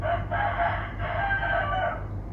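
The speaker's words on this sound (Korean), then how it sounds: "닭 소리가 쩌랑쩌랑하게 들리더라고요." A rooster in Bali crows loudly and close by, with a long strained call followed by a second drawn-out crow and no other sounds.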